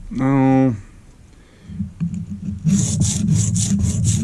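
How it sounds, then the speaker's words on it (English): Sharpening strokes on a silicon carbide stone at moderate hand pressure, a run of close rasping rubs in steady rhythm after a short lull, with a voice heard briefly at the start. "let's give it a couple of more strokes at the, you know, the normal sharpening pressure there"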